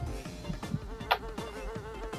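Buzzing bees in the Ninjabread Man video game, a droning insect hum with wavering harmonic tones, overlaid with a few soft game effects and one brief bright chime.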